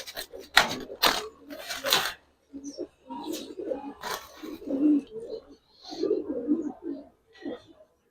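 Big, coloured Giribaz and high flyer pigeons coo close by in a series of low, throaty bursts. A few sharp rustles, like wing flaps, come early on.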